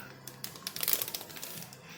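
A plastic bag of fresh basil is pressed and sealed from one end, with quiet close crinkling and soft crackles clustered in the middle.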